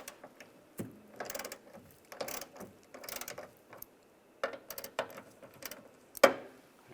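Ratchet with a 13mm socket loosening the hood hinge bolts on a 2007-2013 Chevrolet Silverado 1500, heard as quick bursts of clicking separated by pauses, close and fairly quiet, ending with a sharp metallic knock.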